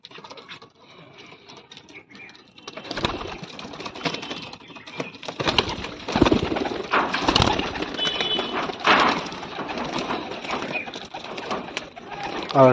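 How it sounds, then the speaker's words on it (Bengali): Male pigeons let out of their loft flutter and coo in a busy, continuous jumble of bird sounds, with wing movement and calls overlapping at close range. "তো মেল পায়রাগুলোকে ছেড়ে দিই"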